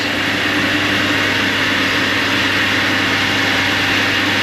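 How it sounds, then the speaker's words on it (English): A faulty motor in a honey extraction house runs continuously with a heavy, rough rumble and droning hum, steady and close, with no pauses. "That's a lot of noise. Something wrong with engine."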